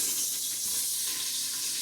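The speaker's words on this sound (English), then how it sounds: "Hear that sizzle." Peppers tossed into hot olive oil in a pan give a steady, close, bright sizzle and hiss that holds evenly throughout, with no talking over it.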